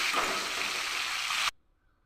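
Onions and curry leaves fry in hot oil as they are stirred, a steady broadband sizzle lasting about a second and a half before cutting off abruptly into near silence.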